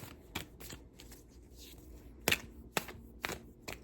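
Tarot cards being shuffled by hand, a soft riffle followed by a series of sharp, separate papery slaps and taps, close and fairly quiet.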